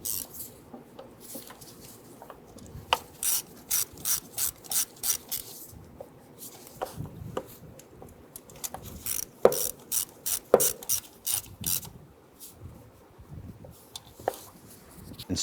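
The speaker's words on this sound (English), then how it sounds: "Use your 7mm socket and extension to go ahead and snug these down." A hand ratchet with a 7mm socket and extension snugs down fuel injector bolts on a 1994-2004 Ford Mustang 3.8L V6, giving repeated short bursts of close, crisp clicking between quieter pauses.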